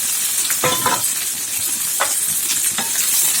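Onion, garlic, tomato and drumstick pieces sautéing in a pan, a steady loud sizzle broken by several quick scraping strokes of a spatula, with no speech.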